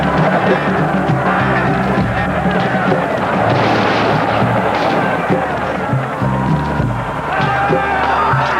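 Battle between Highland Jacobite clans and British redcoats, with artillery and musket fire in repeated booming volleys and crackling shots under a dense crowd din, loud and continuous with a voice speaking over it.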